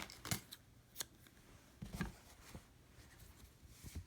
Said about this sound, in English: we're just going to take this and pull it out and cut it